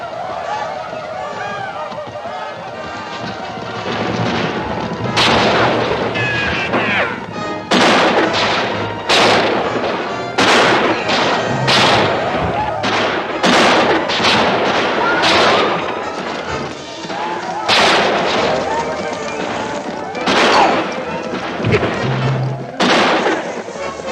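Western movie battle with repeated gunshots cracking over a busy scene, many shots spread across the clip and mixed with background noise and shouting, loud and fairly close.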